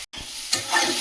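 Spice paste with tomato and coriander powder being sautéed in a pan: a brief close sizzle with a scrape of stirring, after a split-second dropout at the start.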